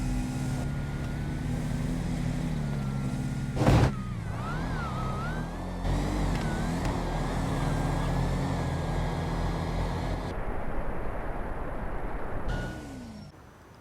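Imperator street race cars in GTA V roaring down a drag strip, engines revving and shifting with rising and falling pitch, a sharp bang partway through, then the sound thinning and tapering off at the end.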